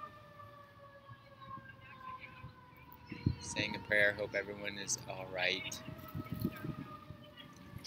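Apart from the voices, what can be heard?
siren in the background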